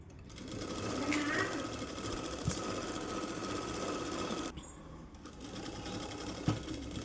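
Sewing machine stitching the edge of a Punjabi dress, running in a steady, fairly loud whir with a short pause in the middle; someone talks over it.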